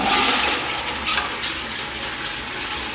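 An old-style Japanese toilet flushes with a steady, loud rush of water that keeps going without pause, and no one speaks over it.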